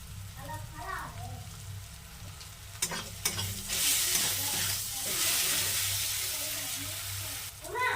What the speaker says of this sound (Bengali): মশলাগুলো ভালোভাবে কষানো হয়ে গেছে